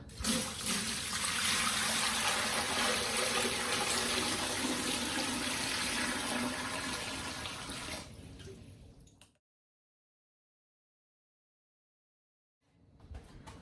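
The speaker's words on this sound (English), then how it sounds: "And then we're just going to fill it with water." Water runs hard from a tap into a pot, a loud continuous rush that tapers off and cuts out, followed by silence and a faint return of noise.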